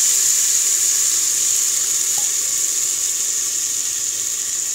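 Cumin seeds sizzling in hot oil, likely in an Instant Pot: a loud, even, high hiss holds steady throughout with no talk.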